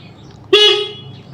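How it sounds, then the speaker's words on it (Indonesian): A single short honk from a Honda CB150 motorcycle horn, loud and close, lasting about half a second over a quiet idle hum. "ini kita nyalakan klakson"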